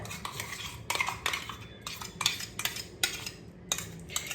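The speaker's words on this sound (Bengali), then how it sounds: "সবগুলোকে একটু ভালো করে মিশিয়ে নিতে হবে।" Onion and garlic paste being mixed with a spoon in a metal bowl for prawn bhapa, giving repeated close scraping and clinking strokes in an irregular rhythm, with no voices.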